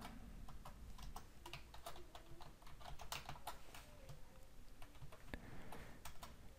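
Computer keyboard tapped steadily while an HTML table tag is written, a close run of quick light key clicks over a low background hum, with no talking.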